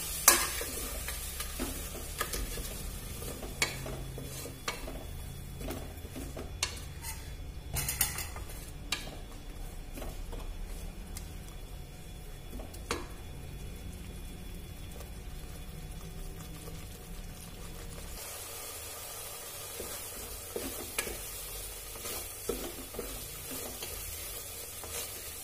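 Ground masala paste frying in a pan, steady soft sizzling with repeated scraping and stirring clicks of a spoon against the pan, close and continuous.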